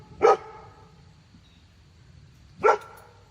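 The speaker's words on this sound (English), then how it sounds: "We'll let them bark a minute." Dogs in a backyard let out two short, sharp barks about two seconds apart, heard at a moderate distance against a quiet background.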